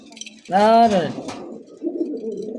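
A pigeon gives one loud, close, throaty coo, followed by softer murmuring and low background voices in a place where fancy pigeons are kept for sale.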